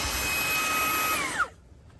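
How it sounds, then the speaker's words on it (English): A Fanttik Slim V8 Apex portable car vacuum runs with a steady high-pitched whine, then switches off and spins down quickly, leaving near silence. "So I'm quite happy with this little vacuum."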